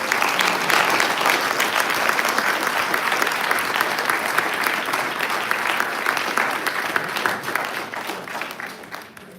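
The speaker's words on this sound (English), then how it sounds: "If you could give them a round of applause." Sustained round of applause from a crowd at a congressional district event, dense clapping held at steady loudness for about nine seconds before tapering off at the end.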